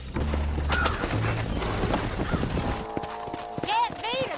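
Horses galloping in a Western-style race, a dense drumming of hooves with neighs, followed by speech and music over the fading hoofbeats.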